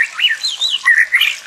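A magpie robin mother calls while feeding its chick at a nest in a tree, giving a short run of bright, close chirps and rising whistled notes.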